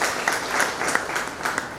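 An audience at a World Theatre Day celebration in Kalaburagi claps for Sharanagouda Patil, a short burst of scattered, moderately loud applause with distinct individual claps.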